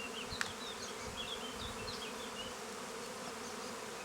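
Bees hum and buzz steadily close by, several insects droning at once, with a brief sharp tap early on and a faint low rustle underneath.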